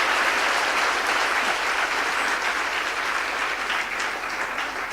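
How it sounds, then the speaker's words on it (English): A conference audience at a Women in STEM and Maritime event claps for a panel, dense sustained applause from a full room that holds steady and only slightly thins toward the end, with no one speaking over it. "Let's give them all a final round of applause,"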